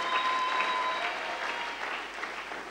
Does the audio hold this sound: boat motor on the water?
no